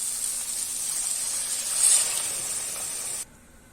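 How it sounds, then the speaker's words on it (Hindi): A cup of water poured into frying masala for broccoli sabji, a loud steady sizzling hiss that swells briefly then cuts off abruptly. "हम एक कप पानी डाल देंगे।"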